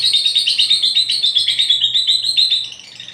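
A noisy pet lovebird or small parrot gives rapid, shrill chirps in a steady pulsing series, loud and close, then stops abruptly near the end with no voices over it.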